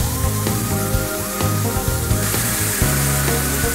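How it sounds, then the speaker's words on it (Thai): Massaman curry with cardamom, bay leaves and peanuts boils over raised heat in a pan, giving steady close bubbling with repeated soft plops and a continuous hissing simmer underneath. "เดือดปุดๆแบบนี้นะคะ"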